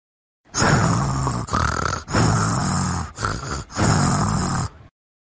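Loud, rough snoring-like snorts and grunts in several long bursts, separated by brief pauses, close up and with no talking.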